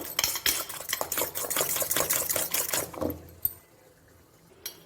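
Eggs being whisked briskly in a bowl for egg chapati, made without coriander or curry leaves, producing a rapid, steady clatter of utensil against the bowl for about three seconds before it stops, followed by quiet with a single faint knock.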